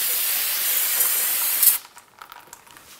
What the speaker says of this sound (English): Let's give it another rinse.